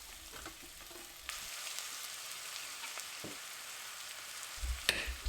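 Pumpkin, carrots and potatoes sautéing in a hot pan, giving a steady close sizzle and frying crackle with a few clinks and stirring bumps near the end and no talking.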